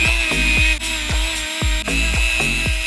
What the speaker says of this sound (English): I'm gonna come in here with a Scotch-Brite wheel just to clean it up a little bit